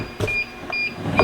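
Short, thin electronic beeps from an automatic 16-egg incubator repeat a few times in quick succession, close by, with brief clicks and rustles between them.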